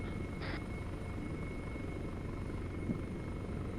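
A helicopter in a military video game gives a steady, even rotor and engine drone throughout, with no speech over it.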